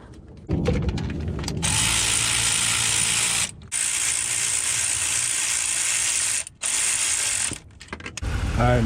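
Ratchet wrench tightening thermostat housing bolts on a Dodge Ram 1500, a loud, steady rapid clicking in long runs broken by a few brief pauses, close up with no talking.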